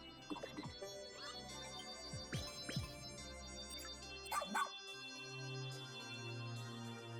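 Cartoonish dog yips and small barks from the dog companion in the Pikmin 4 video game, a few short bursts in the first three seconds over a steady game music bed, then a brief chime.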